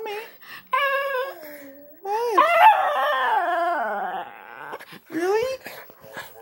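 A pet dog howls and yodels in long, wavering, rising and falling notes, broken by short gaps, while someone speaks to it between the cries.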